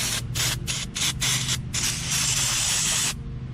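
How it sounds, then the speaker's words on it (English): Aerosol brake parts cleaner sprayed outdoors on a truck tailgate during a Can-Am DS90X transmission repair: a quick series of loud, close hissing bursts, then one longer continuous spray that cuts off abruptly. "sprayed a bunch of this brake parts clean all over"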